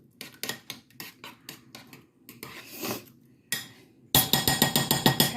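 Baked beans stirred in a metal pot, with a spoon scraping and knocking against the sides in quick, rhythmic clatters that grow louder and denser toward the end, close and without talk.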